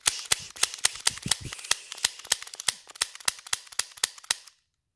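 A Daisy Powerline 426 CO2 semi-automatic BB pistol fires about twenty sharp, loud, close pops in a fast, slightly uneven string, then stops abruptly into silence.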